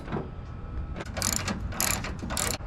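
Bolts are tightened on an older truck with a ratchet, giving bursts of quick metallic clicks in several runs over a low mechanical background, close and fairly loud.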